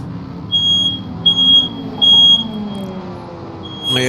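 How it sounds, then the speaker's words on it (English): A household smoke alarm goes off with about four sharp, high-pitched beeps in an even rhythm, loud and clear over a low background rumble. "there's a fire alarm going off"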